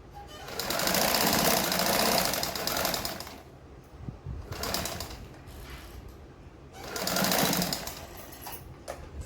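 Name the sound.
sewing machine stitching a blouse seam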